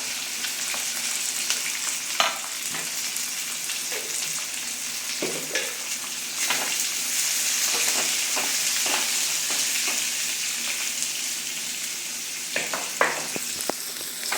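Onion fries in a pan with a constant close sizzle, broken by irregular spatula stirs and scrapes, no talking.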